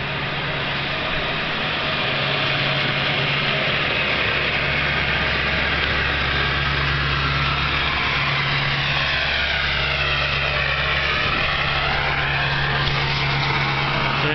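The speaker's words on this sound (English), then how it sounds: "Got the dump running. You can hear that thing fast idling." A dump truck's engine runs at a fast idle, a steady low droning rumble with a constant hum that holds unbroken throughout, close by with no talking.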